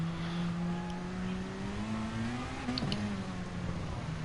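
Race car engine holding a steady droning note with a slight pitch rise as it rides around a curb on track, continuous and fairly loud throughout with no talk.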